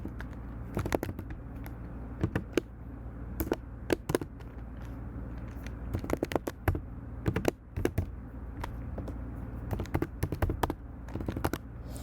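Irregular bursts of typing on a computer keyboard, with clusters of quick key taps separated by short pauses, close and fairly quiet over a low steady room hum.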